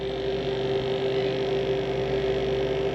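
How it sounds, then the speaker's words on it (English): A small portable rechargeable vacuum sealer runs on top of a jar lid, giving a steady, even mechanical hum with a constant tone throughout, moderately loud and close, with no talking. "I have this portable, rechargeable little vacuum seal doohickey too"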